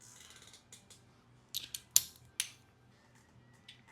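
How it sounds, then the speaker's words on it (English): Torque wrench tightening a 1/4-20 fastener on a 2024 Road Glide motorcycle, heard as a few sharp ratcheting clicks and clacks near the middle of the clip, with a faint steady hum beneath. "All right, break out the torque wrench."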